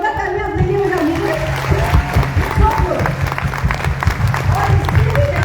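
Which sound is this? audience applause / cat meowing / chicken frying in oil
audience applause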